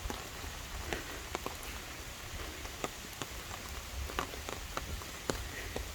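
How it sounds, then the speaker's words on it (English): Steady rain patters on an umbrella during a rainy outing in St. Mary City, Maryland, a dense even hiss broken by scattered louder drop taps, no talk. "I'm not necessarily walking in the rain, but the umbrella sound."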